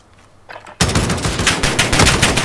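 Rapid automatic gunfire from a shooter video game tournament bursts in after a quiet moment, loud and close, with dense repeated shots continuing to the end and no talk.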